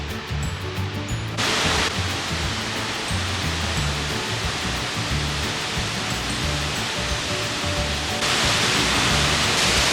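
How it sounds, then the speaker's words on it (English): Waterfall on the Hampta Pass trek roaring loud and steady up close, a dense continuous rush of falling water with no voices over it. "I'm against this wonderful waterfall"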